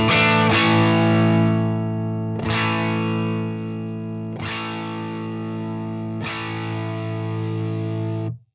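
An electric guitar runs through a tube amp fitted with EL34 or 6L6 tubes, at lowered volume. Four distorted chords ring out, each sustained and fading before the next strum, with no talking.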